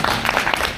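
Audience at a Toastmasters club opening address breaks into a short burst of applause, a dense wash of many hands clapping at once.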